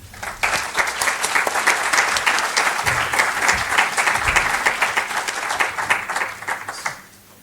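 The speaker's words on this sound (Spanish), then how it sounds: "os pido un gran aplauso para él." A lecture audience applauding a scientist after his introduction at a talk on mythology, culture and art in the periodic table: steady, dense clapping from a full room lasting about seven seconds, then fading out.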